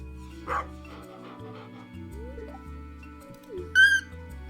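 A dog in the Stardew Valley farming game gives a couple of short, clear barks over soft game music, one early and a louder, higher one near the end.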